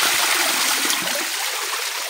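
A small waterfall splashes into a flowing stream, a steady broadband rush of water that stays fairly loud and even throughout, with no voices over it.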